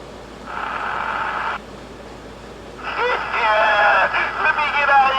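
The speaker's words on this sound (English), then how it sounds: "I'm scanning through AM traffic on sideband" CB radio scanning AM traffic on sideband gives two bursts of garbled, warbling transmission over a steady hiss of static, the second longer and louder.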